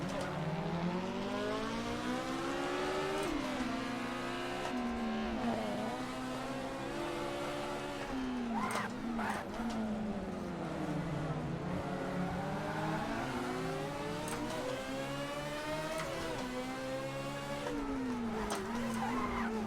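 Modded race car in Assetto Corsa with a quad-rotor engine sound, a smooth high-pitched rotary whine that rises and falls continuously through repeated revving and gear changes, steady and prominent throughout.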